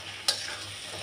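Taro leaf greens frying in oil in a pan, cooked with hilsa fish: one sharp scrape of stirring, then a soft, steady sizzle close by, with no voices.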